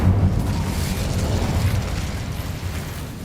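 A fire spell is cast in Hogwarts Legacy, a dense, roaring whoosh with a low rumbling burst that holds steady and then fades slightly, with no talk.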